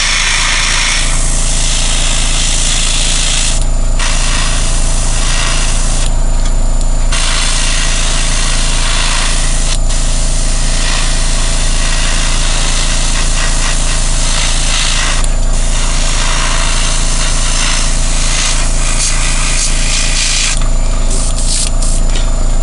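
An airbrush sprays light misted coats of Vallejo primer, a loud continuous hiss that stops briefly and starts again several times.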